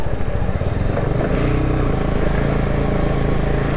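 Zontes V310 motorcycle, a 300cc bike, riding with a steady, loud engine drone and low rumbling pulses that hold level throughout, close to the microphone, with no talking.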